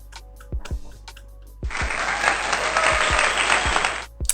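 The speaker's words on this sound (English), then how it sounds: "So let me get a hand clap for the Lakers." A burst of dense applause on a podcast for the Los Angeles Lakers starts abruptly after a few sharp taps, holds loud and even for about two and a half seconds, then cuts off.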